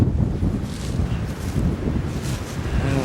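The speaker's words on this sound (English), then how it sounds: "Ooh, here's that wind" Wind gusting across an open cemetery in Port Stanley, Ontario, a loud continuous rumbling buffet on the microphone with rushing, rustling texture.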